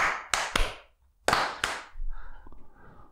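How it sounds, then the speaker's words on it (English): A group doing a slow clap: sharp, loud hand claps spaced widely apart in an unhurried rhythm, a couple of paired strikes, then softer tapping and muffled noise at the end. "Yeah, all slow clap together."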